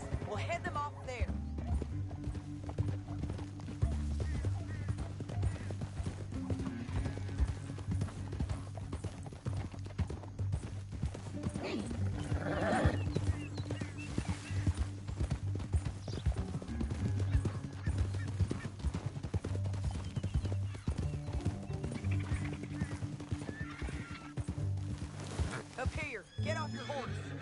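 Horses gallop in the video game Red Dead Redemption 2, a steady clip-clop of hooves with an occasional neigh under a constant low rumble, while voices talk over the action throughout.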